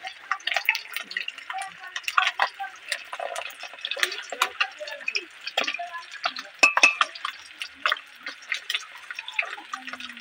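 Fish frying in oil in a pan while being stirred, a dense crackle of sputtering pops and sizzles running steadily throughout at close range.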